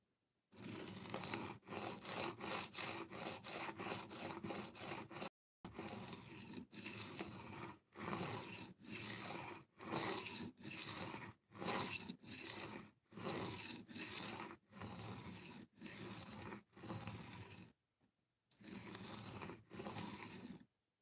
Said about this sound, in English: We've got one more knife to sharpen after this, too.